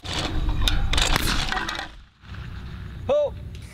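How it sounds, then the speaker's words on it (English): A 12-gauge TriStar over-and-under shotgun shot at an outdoor clay shooting range breaks a biodegradable clay target, giving a loud, close blast and crack. It fades to quieter background, followed by a brief sharp tonal sound near the end. "We use TriStar 12-gauge over and under shotguns as well as whitetail biodegradable clays."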